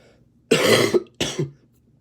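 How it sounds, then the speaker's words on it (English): Two harsh coughs close to the mic, the first longer and rougher, the second shorter after a brief pause, with quiet background in between. "Mind the cough."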